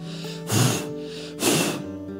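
A human voice imitating sniffing or snorting close in someone's ear, given as two strong breathy bursts about a second apart over a steady background hum.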